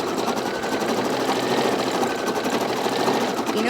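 An embroidery machine stitching a quilting block, a rapid, even mechanical chatter running steadily and close for the whole stretch without pause.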